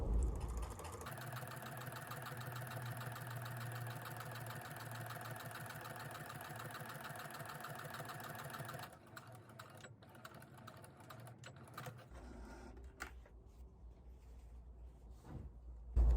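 A sewing machine stitches a quarter-inch seam on a rag quilt cushion, running in a steady, fast, continuous whir for several seconds, then stopping and leaving quieter handling clicks and rustles.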